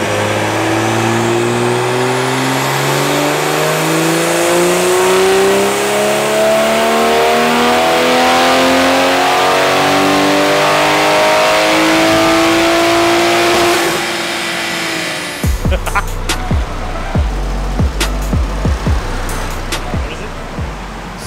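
A car engine fitted with a PURE800 turbo on 93 octane pump gas revs hard on a shop dyno, climbing steadily in pitch through a long pull before cutting off, followed by a few short blips and pops.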